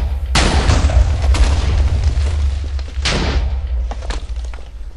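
Video game explosions from a glitched time parameter, with loud booming blasts at the start and again near the middle over a rumbling low background, followed by smaller thuds.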